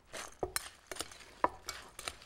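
Apples tossed with sugar and walnuts in a bowl give soft clinks, knocks and rustling stirs in an irregular rhythm, close and moderately quiet with no talking.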